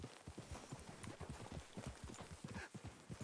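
Rapid, rhythmic clip-clop of hooves in the video game Red Dead Redemption 2, a horse trotting at a steady pace close by, continuous across the whole stretch.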